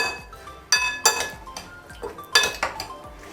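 Chana chaat being mixed with tamarind pulp in a bowl, a series of close metallic clinks and scrapes of a spoon against the dish in an uneven rhythm, with no talking.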